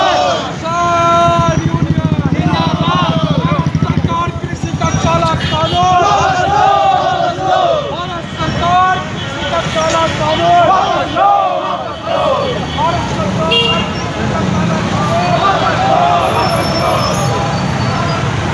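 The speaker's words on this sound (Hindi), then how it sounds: "ट्रैक्टर रैली ने आसनसोल के विभिन्न हिस्सों की परिक्रमा की।" Tractors rumble along in a farmers' protest rally against farm laws in Asansol, a loud, continuous drone of engines and traffic mixed with crowd shouting and voices throughout.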